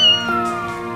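A rescued cat gives one loud, close, sustained meow with a strong tonal, slightly wavering call filling the short moment.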